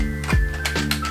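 A Chiropter MK4 gaming keyboard with a slightly loose key gives a few quick, close plasticky clicks and clacks over a steady background hum.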